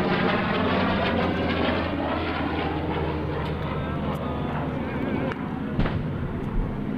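A World War II B-17 bomber warbird flies at the 2003 Dayton airshow, its engines a loud, steady roar broken by a few sharp pops.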